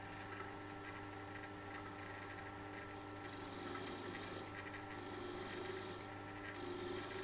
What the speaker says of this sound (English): Again, a very rigorous sanding routine here. I think 240 grit and then maybe 600 grit